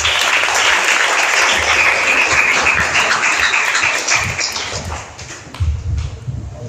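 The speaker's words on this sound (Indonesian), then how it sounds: "Tepuk tangan." Loud, sustained applause from an audience at a santri debate (batsul masail), steady clapping that thins out toward the end with a few scattered claps.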